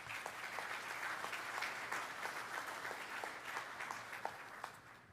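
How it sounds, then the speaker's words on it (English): Audience applause for a panel at a military land forces conference, a steady round of distinct claps at moderate distance and fairly faint, lasting about five seconds. "Please give the panelists a round of applause."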